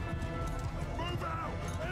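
Cavalry horses gallop through a battle in Mount & Blade II: Bannerlord, a continuous dense drumming of many hooves mixed with game battle noise, steady and fairly loud throughout.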